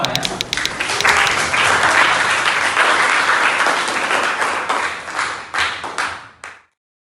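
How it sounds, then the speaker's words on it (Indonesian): Group applause from participants at a teachers' training session in Malang, dense steady clapping close by that tapers into a few scattered claps and stops, with faint voices mixed in. "tepuk tangan untuk kita semua ya"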